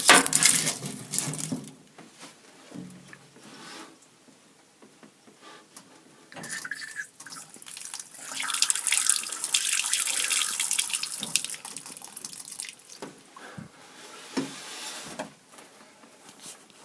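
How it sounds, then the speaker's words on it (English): Water gushes from the opened lower valve of a house heater, splashing loudly at first, then thinning to a trickle and surging again in uneven spurts and drips, close by and with no talk. "I just opened up that lower valve and water came out."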